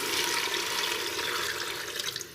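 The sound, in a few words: water being poured into fried moong dal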